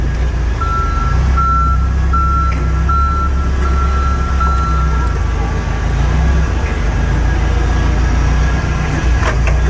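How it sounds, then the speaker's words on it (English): A heavy-laden forklift in a fabrication shop emits steady, evenly spaced reversing beeps over a loud, constant engine rumble and shop noise, close by and continuous throughout. "Forklift a little struggling on that one."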